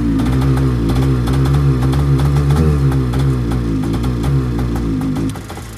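A Yamaha motorcycle fitted with TORS runs close by with a loud, throbbing, uneven engine note that sputters and stumbles when throttle is given, then drops away sharply near the end.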